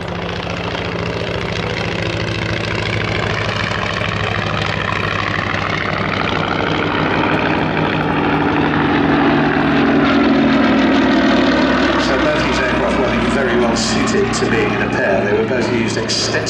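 A Westland Lysander in Special Operations Executive colours drones overhead at an evening airshow, its propeller engine a loud continuous roar shifting in pitch as it passes, under a commentator's voice.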